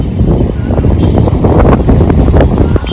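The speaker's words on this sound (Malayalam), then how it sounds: "ഈ നാട്ടിൽ പണ്ട് തൊട്ടേ ഉള്ളതാണല്ലോ കാറ്റ്." Strong wind in the hills of Kodaikanal roars steadily into the microphone for three seconds, a loud, buffeting rush with gusty swells and no voices.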